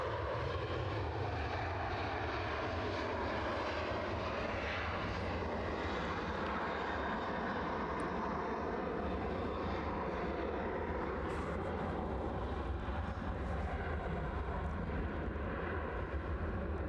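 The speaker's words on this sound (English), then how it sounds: "We now have a 747 behind us from Frankfurt to San Francisco" A Lufthansa Boeing 747 bound from Frankfurt to San Francisco roars steadily at Edinburgh Airport, a continuous broad engine rumble holding at moderate distance throughout with no voices.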